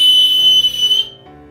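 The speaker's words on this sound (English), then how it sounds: "To the team he gave a whistle" A sharp, steady high-pitched whistle sounds for about a second over a low musical backing, then cuts off and leaves the music playing on its own.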